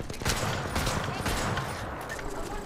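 Rapid bursts of gunfire in the battle-royale game Apex Legends crackle continuously and loudly for the whole stretch, with no pause between shots, while a voice talks faintly underneath.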